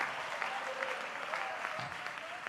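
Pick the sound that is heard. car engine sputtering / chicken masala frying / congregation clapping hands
congregation clapping hands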